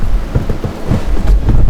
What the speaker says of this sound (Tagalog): Napapalibutan tayo ulan